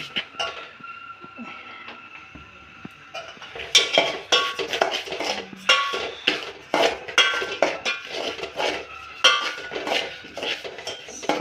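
Semolina (rava) being roasted and stirred in a metal pan for upma, with a utensil scraping and clinking against the pan in repeated, irregular strokes, close and fairly loud.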